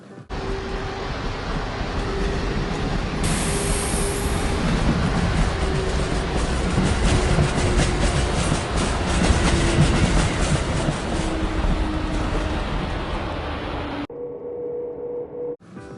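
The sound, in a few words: train ride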